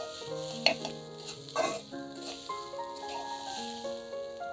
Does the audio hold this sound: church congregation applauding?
no